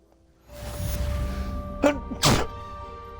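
A character sneezes twice in Hogwarts Legacy, two sharp bursts close together over steady game ambience and music, with faint talk before them.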